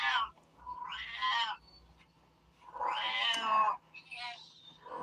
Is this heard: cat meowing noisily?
yes